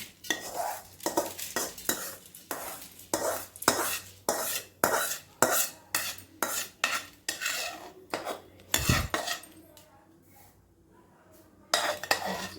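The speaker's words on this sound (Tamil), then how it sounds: "கடலைப்பருப்பு, துவரம் பருப்பு வறுத்தாச்சு. இப்போ கடலைப்பருப்பு வறுக்கிறேன்" Toor dal and chana dal being dry-roasted in a pan, with a steady run of scraping and clinking stirring strokes against the metal, loud and close, then a brief quiet stretch before stirring resumes.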